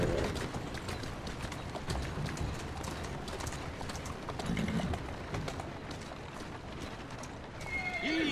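Horse hooves clip-clop in Assassin's Creed Syndicate, a steady trotting rhythm on a Victorian London street, joined by a loud whinny and a brief voice near the end.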